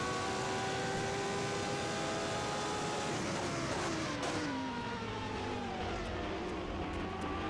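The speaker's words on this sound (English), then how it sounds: "It's funny that gear shifting on the Judd sounds like a soda machine" A 1991 Formula 1 car with a Judd engine screams at high revs, then drops in pitch through a series of downshifts. The engine note sweeps and steps down while steady broadcast crowd noise runs underneath.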